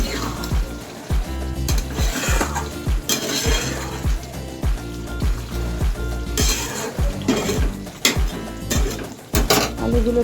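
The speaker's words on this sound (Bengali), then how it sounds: "আলুগুলো দিয়ে দেবো, তারপরে কিছু 3টে কাঁচা লঙ্কা উপর দিয়ে দেবো" Potatoes go into a cooking pot for Bengali dhokar dalna, a run of close clattering knocks and metallic clinks against the pot over a faint sizzle, with no speech.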